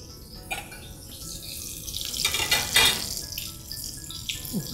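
Breaded fish fingers sizzle in hot oil with a close crackling hiss that swells and fades over a few seconds, with no voices.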